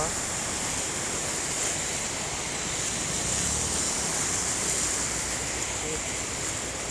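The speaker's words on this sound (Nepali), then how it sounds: "पानी बगिरहेको अवस्था छ।" Floodwater rushes over the Mahendra Highway in Sunsari, Nepal, making a loud, continuous broadband roar like heavy surf with wind buffeting, steady throughout and close by.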